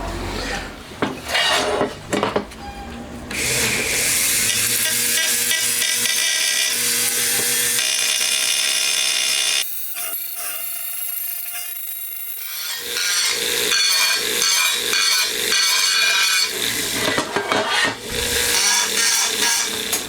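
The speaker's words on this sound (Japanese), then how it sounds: "今塗装があったり汚れてたりするので、そういう状態だと溶接すごくやりづらいんですよね。 なのでリューターできれいにして溶接をやりやすいようにしてきます。" A rotary tool grinds paint and grime off an aluminum engine clutch cover for a 125cc four-cylinder engine build, a harsh, loud, sustained abrasive scraping with brief pauses and changes in pressure, close up and without talk.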